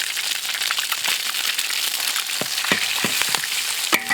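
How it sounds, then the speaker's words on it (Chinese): Dried chilies stir-fried with ginger and garlic in a wok of oil, a loud dense crackling sizzle with scattered crisp stirring scrapes and clicks near the end, no speech. "这个要多炒一下啊。"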